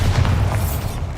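Bombarda explosion spell cast in Hogwarts Legacy inside a decayed catacomb, a short deep boom with a heavy low rumble lasting the whole moment, loud and close.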